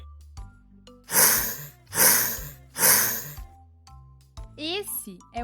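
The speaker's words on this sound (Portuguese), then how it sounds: "Esse é o som do hipopótamo," A hippopotamus lets out three loud, breathy grunts from deep in its throat, evenly spaced about a second apart, followed by fainter rustling sounds.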